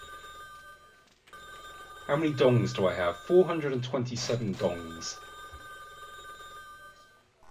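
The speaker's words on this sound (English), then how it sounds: "The phone is going crazy." A telephone rings in the video game Biing!, steady electronic tones running under a stretch of speech in the middle.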